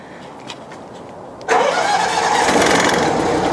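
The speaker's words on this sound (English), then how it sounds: "Turn on the second engine." Second engine on a twin-engine hot and cold water trailer sewer jetter cranks and fires up, jumping from quiet ticking to a loud, steady mid-pitched idle close by.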